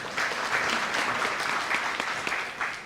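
Loud, dense applause from an audience honoring Govind Bhai, sustained and even throughout with no break.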